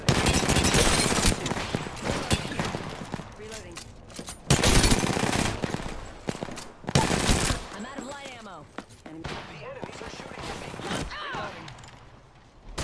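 Bursts of rapid automatic gunfire from a shooter video game, loud and close, coming in dense volleys separated by brief pauses, with a player's voice talking over parts of it.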